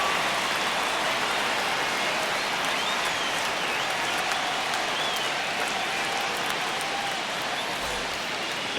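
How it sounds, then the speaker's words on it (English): Stadium crowd applauding before a San Francisco baseball game at the start of the season, a dense, steady wash of clapping and cheering that holds at full volume for the whole stretch, with no single voice standing out. "The crowd is amped up, ready to get this season underway"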